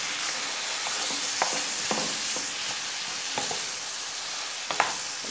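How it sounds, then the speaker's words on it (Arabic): Pizza roll filling frying in a pan with salt, black pepper and turmeric added: a steady close sizzle with scattered clicks and scrapes of stirring throughout, no voices. "دوك ندير الفلفل تاعي ونزيد نقليهم فيما بعد"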